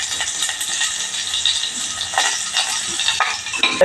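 Green chillies and other ingredients for a spinach curry being sautéed in a pan, making a dense, steady hiss of frying close by, with faint rattles and scrapes of stirring rising briefly now and then.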